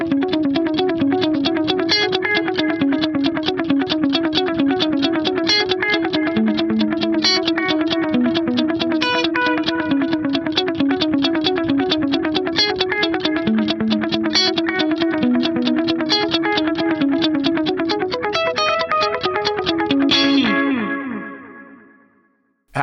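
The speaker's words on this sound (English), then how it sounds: "dotted eighth note delay, but with a lower mix. And this is a really dark sounding delay" Electric guitar run through an Axe-Fx III with a dark, low-mix dotted eighth note delay, the picked notes cascading into soft repeats, playing steadily for about twenty seconds before ringing out and fading.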